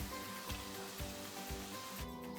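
Potato chip slices frying for pakora, with a soft, close sizzle and a regular scraping stir about every half second, fairly quiet and without talk.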